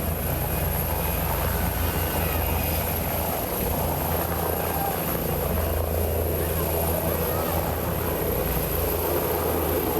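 Relief helicopter flying over flood-hit Indonesia, its loud continuous rotor thump and engine roar filling the whole stretch without pause.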